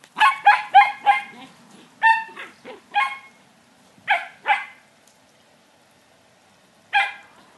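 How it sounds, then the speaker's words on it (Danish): Two herding dogs bark while playing, giving sharp, yappy barks in quick bursts early on and then in scattered single barks with pauses, loud and close with no talk. "Her skiftes 2 hyrdehunde til at træne evnen til at følge og flytte hinanden."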